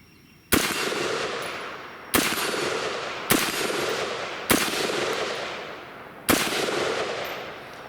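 Five loud, sharp rifle shots from a rifle fitted with a red dot optic, each followed by a long echoing decay, spaced about a second or more apart at an irregular pace.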